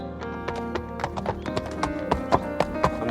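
Horses' hooves clip-clop at a walking pace close by, a steady series of sharp knocks over a sustained musical drone, with a faint whinny.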